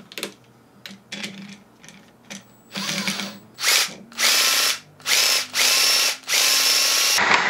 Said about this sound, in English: is a Sawzall attachment. I guess it comes with a wood blade.